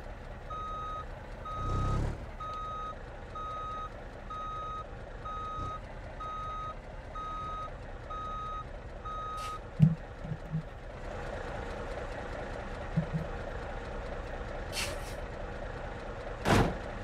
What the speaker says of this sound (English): Trucks move real slow in reverse, so I tend to try to drive forward as much as possible